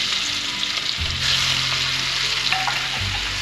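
Chicken nuggets sizzle and crackle in hot grease already used for flour-dredged pieces, a steady close frying hiss with light stirring sounds and no talk.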